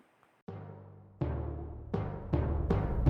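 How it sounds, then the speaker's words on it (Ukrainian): The Ukrainian national anthem: slow, stately music begins softly and builds as successive chords enter, each louder than the last, with no voices. "а тепер послухайте, як звучить гімн України"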